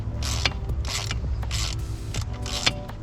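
A screw is driven in by hand during an ignition coil install on a Nissan 350z, giving rhythmic creaking, ratcheting turns in four or five bursts, close and fairly quiet.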